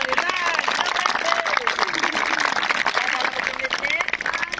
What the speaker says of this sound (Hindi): अब बोतल का पानी जैसे अपने इस कोन में डालें तो आप सब बच्चों ने जोर से क्लैपिंग यानी तालियां बजानी है।